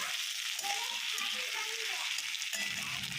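Ginger-cumin paste fries with ridge gourd in a pan, giving a steady, soft sizzle with faint stirring throughout.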